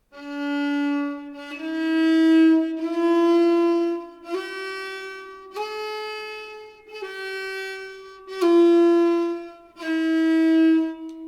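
Bowed nyckelharpa notes, a slow sequence of about eight sustained tones, each starting with a scratchy, noisy bow attack before the pitch settles.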